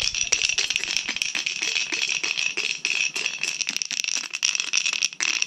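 Dice shaken in a cup during a Cho Han gambling game, a dense continuous rattle with rapid clicking hits, loud and steady throughout.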